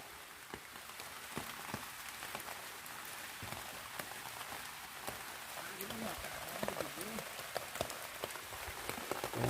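Rain patters steadily on nearby surfaces in a mushroom-foraging area, a dense spatter of drops that rises slightly toward the end.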